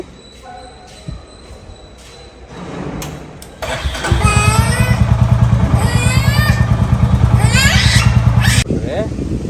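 A motorcycle engine starts and settles into a loud, steady idle with a rhythmic thrum, while people talk over it nearby.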